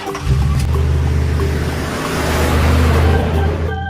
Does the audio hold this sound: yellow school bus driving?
yes